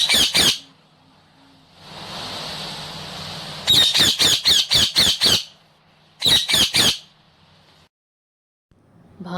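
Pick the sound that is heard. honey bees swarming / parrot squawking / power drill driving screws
parrot squawking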